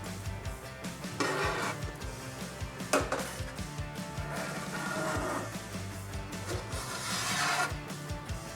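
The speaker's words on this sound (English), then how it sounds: "Turn the pan back to its original position for cleaning." A Vulcan PreciPan braising pan tilts back into its upright position with rubbing, rasping and metallic clanks, a loud steady mechanical grind with several sharp knocks along the way.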